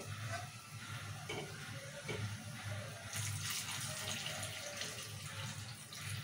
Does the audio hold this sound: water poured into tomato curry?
yes